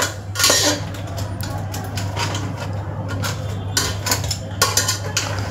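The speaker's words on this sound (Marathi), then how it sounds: "तर ते आता आपण व्यवस्थित असं हलवून घेणार आहे, जेणेकरून मसाला त्याला प्रत्येक किरव्याच्या पेंद्याला लागला पाहिजे" Jungle crab pieces are stirred with masala in a metal pot for a spicy tribal-style curry. A spoon scrapes and clanks against the pot in a run of close, uneven knocks with no talk.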